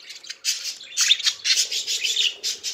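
Parakeets, one of them all white, squawk and chirp close by in quick overlapping bursts of harsh, scratchy calls with no talking.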